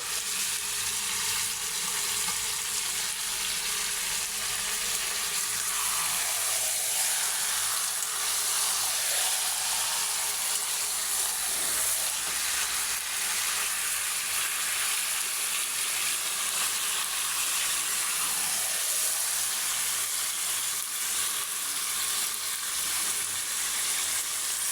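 Beef and radish cooking in a pot, stirred once the lid is lifted, give off a steady, even sizzle and simmer that runs unbroken for the whole stretch, with only faint stirring movement beneath it and no voices.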